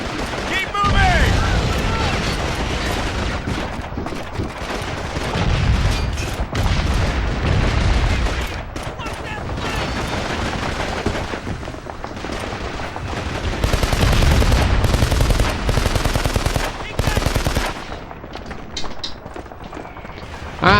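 Bursts of machine gun fire in Call of Duty 2 during Operation Husky, loud rattling volleys that come and go over twenty seconds among booms and hurried footsteps, with voices shouting in between.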